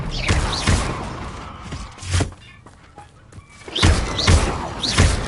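Confringo and other spell effects in Hogwarts Legacy on PS5. They come as heavy thuds and whooshing blasts in bursts, loud and close, with a quieter stretch in the middle.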